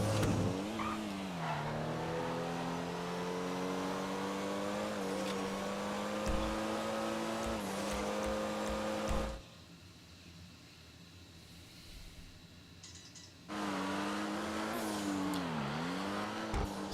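Race cars in Grand Theft Auto roar past with sweeping, revving engine tones that rise and fall as they shift. The sound briefly drops to a quieter rumble before another loud pass.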